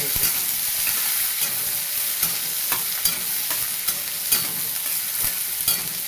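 Chopped onion sautés in oil in a pan for a dry okra stir-fry, a continuous loud sizzle broken by regular scraping strokes of a spatula.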